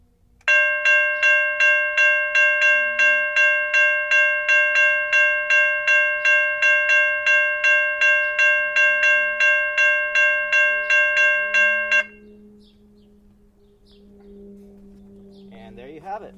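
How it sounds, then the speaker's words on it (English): A Safetran Type 3 electronic railroad crossing bell rings loud and close in a rapid, evenly spaced ding pattern for about twelve seconds, then stops abruptly, leaving a faint hum and a brief voice. "Here's a Type 3 electronic bell from Safetran."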